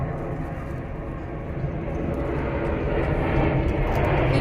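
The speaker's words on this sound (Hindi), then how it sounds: "ये स्पाइस जेट है बाबा, दिस इज स्पाइस जेट।" A SpiceJet passenger jet passes overhead with a steady, broad engine roar that swells slightly louder toward the end and continues unbroken throughout.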